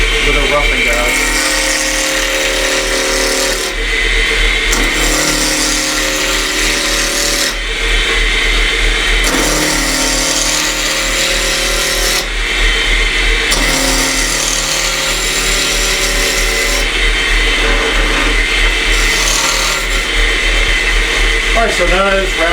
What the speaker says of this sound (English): I'm going to start by making it round with a roughing gouge.